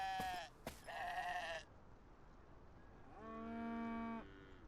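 Cattle mooing in the ranch video game Cowboy Life Simulator: a couple of short, harmonic lowing calls early on, then a longer, steady moo after a gap, moderately loud with no talk over it.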